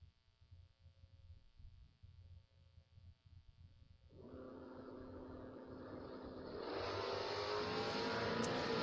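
An 86 convertible Mustang and an 85 Mustang drag racing at a creek strip, heard as distant idling that jumps into a loud engine roar midway and builds further toward the end.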